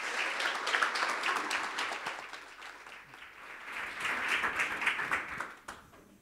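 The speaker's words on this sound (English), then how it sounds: "please give the round of applause to Bruno!" Sustained applause from a conference audience, dense clapping that swells and continues for several seconds before tapering off.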